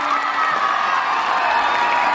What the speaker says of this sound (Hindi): एक बार जोरदार ताली हो जाए इन बच्चियों के लिए।